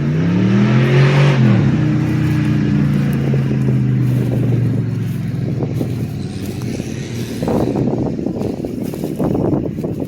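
An off-road Chevy truck engine revs up nearby on a ranch, its pitch climbing and then dropping, followed by a rougher, uneven engine rumble with no voices.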